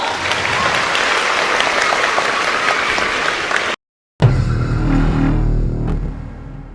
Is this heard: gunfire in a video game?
no